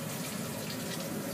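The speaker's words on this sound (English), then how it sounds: "you can hear it kicks on as soon as you turn on the hot water" A hot-water tap runs in a tiny house kitchen, fed by an on-demand propane water heater, giving a close, steady rush of flowing water with a low burner hum beneath it.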